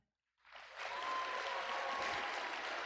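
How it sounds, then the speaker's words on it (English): Applause from an audience at a robotics championship starts after a brief silence and quickly swells into steady, sustained clapping that holds at full strength to the end. "can we please give a round of applause for all of our mentors"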